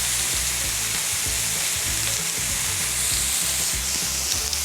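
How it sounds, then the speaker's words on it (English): Noodles fried in a hot pan and pushed around to keep them from sticking, with a constant loud sizzle and a rhythmic series of low scraping stirs underneath. "We'll give these noodles just a little bit of a move around the pan to stop them sticking together."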